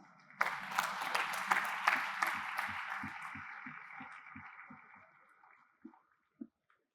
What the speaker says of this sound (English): Yeah, continue clapping, please.